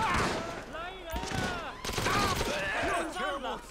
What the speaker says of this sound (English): there's a guy shooting at me over here